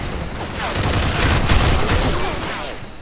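Gunfire in a multiplayer shooter video game, a dense burst of overlapping shots and impacts that swells through the middle and stays loud, with a faint voice briefly underneath.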